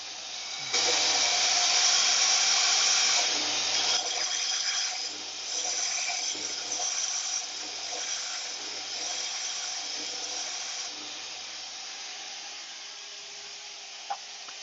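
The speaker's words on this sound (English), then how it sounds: "I'll just make a lot of noise with the sander." Power sander flattening the bottom of a cherry wood lidded box, giving a steady close hissing whir that runs for over ten seconds, swelling and easing slightly as it is worked across the wood.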